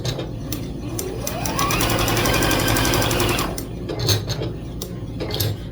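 A sewing machine stitches interfacing appliqué for a honeycomb quilt border, its needle hammering in a fast, even mechanical patter that rises into a sustained whir, then slows to scattered clicks and short bursts.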